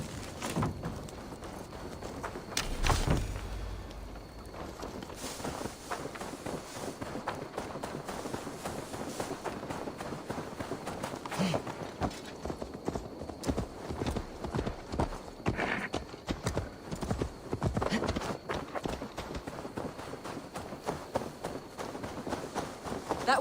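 Hooves pound in a fast clip-clop gallop as a horse runs in Assassin's Creed Valhalla, the rhythm steady and close, with a brief whinny and faint voices now and then.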